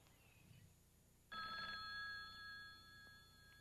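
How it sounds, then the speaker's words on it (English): Telephone bell ringing in a 1970s documentary scene, starting abruptly after a quiet stretch and continuing as a steady, faint electric ring. "Morgan receives a phone call from a logger named Skip Wood"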